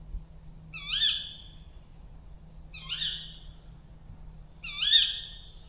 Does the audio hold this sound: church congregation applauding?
no